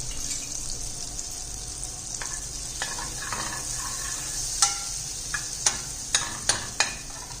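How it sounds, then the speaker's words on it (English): Butter sizzles steadily in a pan for cheese macaroni, a continuous hiss with a few sharp utensil clicks near the end, close and moderately loud with no talking. "First put butter"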